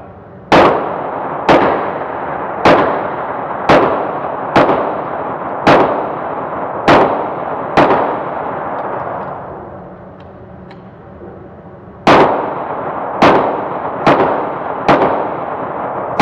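Gunshots crack out one at a time at an outdoor shooting range, loud and sharp with brief decay, in a steady rhythm of about one per second, a short pause, then another run of evenly spaced shots.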